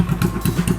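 A 125cc engine mounted on a low rider bicycle idles in a short burst, giving a steady low, thumping putter with a regular rhythm, heard fairly close and alone.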